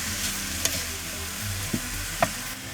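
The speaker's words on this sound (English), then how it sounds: "All I do is brown up the sausage, get it nice and crumbly" Crumbled sausage browns in a skillet with a steady, close sizzle, broken by three sharp scrapes of a utensil stirring the meat.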